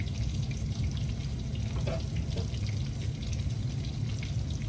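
Running tap water splashes steadily over hands at a kitchen sink while shrimp are being prepared, a soft continuous hiss with faint drips and light clatter, close but quiet.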